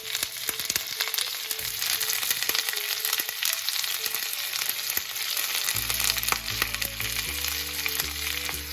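Fiddlehead risotto ingredients frying in very warm oil, a loud, steady close sizzle with crackling pops throughout and some low stirring or pan hum toward the end, with no talking.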